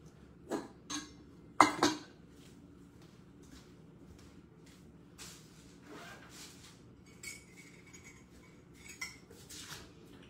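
Dishes and cutlery being washed by hand: a few scattered clinks and clatters of plates and utensils, the loudest bunched together early, then lighter taps and rattles over a quiet background, with no talking.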